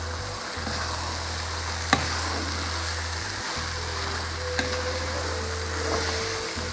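Minced meat and frozen peas sizzle steadily in a hot pan while being stirred, a constant close frying hiss broken by a couple of brief clicks of the utensil.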